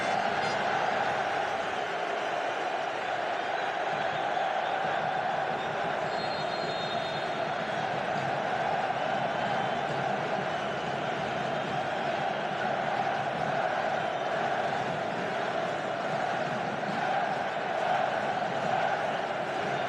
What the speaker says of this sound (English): The Moroccan fans vastly outnumbering their Spanish counterparts, trying to roar on their weary team one last time